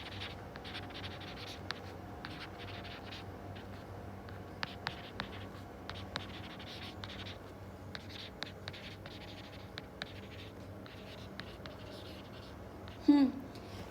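Scratchy strokes of writing on a board come in short, scattered bursts over a quiet room hum during an accounting class, with a teacher's voice faint in places and a brief louder knock near the end.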